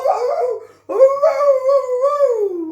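A human voice imitates a dog howling in two long, close, loud wavering howls, the second rising and then sliding down, with a brief silence between them.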